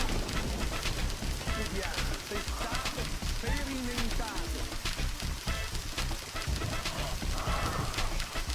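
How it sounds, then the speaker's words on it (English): Rain hisses steadily in the video game Deadly Premonition, a dense, even patter of drops filling the scene at low volume with no pauses. "And the rain started."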